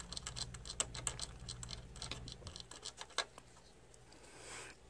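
Close, fairly quiet typing on a computer keyboard: quick irregular key clicks come in bursts and trail off near the end, alone with no talk.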